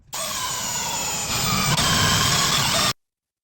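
A power drill boring mounting holes for roll cage plates on a 1974 GMC Jimmy, running at a steady loud whine for about three seconds, its pitch shifting slightly partway through as the bit cuts, then stopping abruptly.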